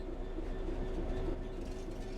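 Train rumbling steadily along the track in Train Sim World 3, a continuous near roar of wheels and low engine hum with faint tonal whine, no talk.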